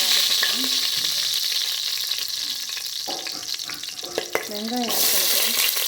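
Fennel seeds, curry leaves and green chilli crackle and sizzle in hot oil for a crab kuzhambu, a steady close spitting hiss with a few sharper pops and stirring scrapes, broken by brief wordless vocal sounds.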